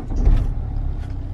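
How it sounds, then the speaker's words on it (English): BMW car engine running at a steady low rumble right after starting, close and fairly loud throughout with no voices. "So start the engine up."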